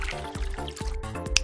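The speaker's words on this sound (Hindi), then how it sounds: "अब देखते हैं कि इस टी बैग का क्या होगा जब हम कैंगन वाटर काम में लेंगे।" Kangen water is poured onto a green tea bag in a cup, giving a close, continuous splashing trickle with repeated gurgling drips and a steady watery hiss.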